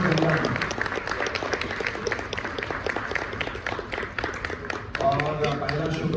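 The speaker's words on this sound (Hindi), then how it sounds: "एक बार जोरदार तालियां सबके लिए, एक बार बजा दें" A crowd at a film promotion event in Delhi claps loudly, a sustained, rippling burst of applause with sharp individual hand strikes, while someone speaks over it toward the end.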